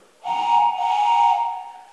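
A handheld whistle sounded at a house concert imitates a steam train, giving one loud, sustained, reedy wail of close chord-like tones that holds for over a second before fading slightly.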